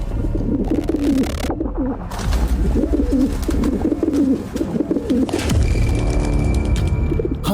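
Soft, low cooing calls of a pigeon-like bird repeat in a steady rhythm, fairly close, with a brief pause partway through.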